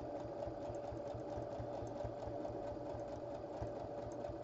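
A domestic sewing machine runs steadily, stitching scrappy crumb quilt squares together, its rapid needle chatter and motor hum continuous and close throughout, with no talking.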